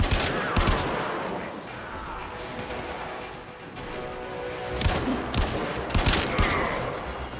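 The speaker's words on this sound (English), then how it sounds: "Did I just shoot him to death in the leg?" Rapid gunfire from Warframe, a sci-fi shooter video game, with several bursts of sharp shots clustered near the start and again toward the end over a busy background of game sound, loud and close.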